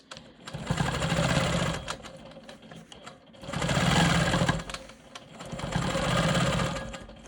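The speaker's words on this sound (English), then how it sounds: "now I'm going to go ahead and do the quilting plan that I had previously mentioned" A Quilt Maker Pro 20 sewing machine stitches through a quilt block in three long runs, its rapid needle rattle and motor hum rising and falling between short pauses, with no talking.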